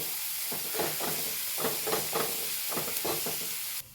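Chopped egg sizzles and fries in a pan for kothu chapati, with a steady hiss and rhythmic scraping stirs repeating about every half second, close and alone.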